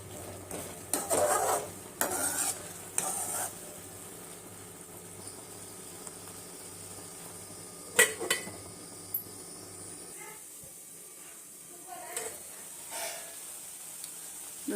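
A spinach and onion mixture is stirred in a pan, with a spoon scraping and clanking against the metal in several quick bursts over a soft, steady sizzle, then quieter occasional scrapes.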